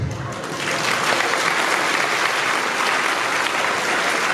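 A political rally audience in Wrocław breaks into applause, a thick steady clapping that swells after the first half second and stays loud and even to the end.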